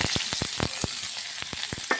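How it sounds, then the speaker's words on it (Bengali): Onion frying in a pan for a fish curry, a loud continuous sizzle with sharp crackles and pops scattered irregularly through it. "পেঁয়াজটা হালকা ভাজা হয়ে গেলে"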